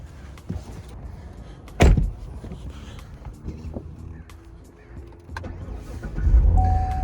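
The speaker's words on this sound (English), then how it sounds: "let's go ahead and get in and take this out for a spin" Someone gets into a Corvette C7 with its Targa top removed: a sharp door thump near the start, faint rustling and shuffling in the cabin, then a low rumbling hum swelling toward the end, with no talking.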